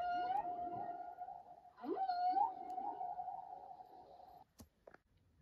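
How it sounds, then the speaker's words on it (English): Whale calling underwater in long, sustained tonal moans that bend and swoop in pitch, two drawn-out phrases that are loud and clear, ending in a couple of brief clicks. "Whale."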